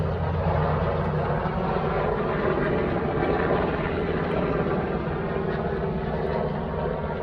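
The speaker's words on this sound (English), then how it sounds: "listen to the helicopters flying above us" A steady, loud engine drone fills the air without letup, the deep whirring rumble of helicopters passing overhead, outdoors beside a boat at Wrightsville Beach, North Carolina.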